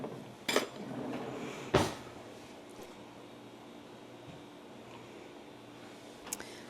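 A metal tablespoon clinks twice against a container while scooping honey from a large tub, two sharp brief knocks close by over a quiet room background, with one fainter tap a few seconds later.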